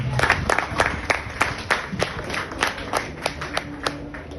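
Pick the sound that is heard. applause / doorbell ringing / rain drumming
applause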